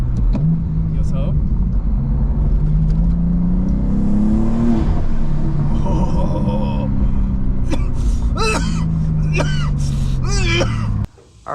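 BMW M5 CS engine on a race track, revving loud and close with rising and falling tones through gear changes, lifting and dropping sharply before it cuts out near the end; a voice talks over the engine in places.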